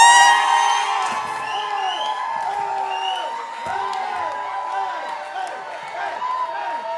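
A live debate-show audience cheers for a competing proposal: a steady, dense roar of whooping and shouting voices that holds for several seconds, with scattered higher yells rising above the crowd.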